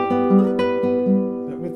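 Guitar plays a short passage from Romance as a tutorial demonstration: sustained plucked notes ring in a gentle repeating pattern with a slide, close and clear, with no talking.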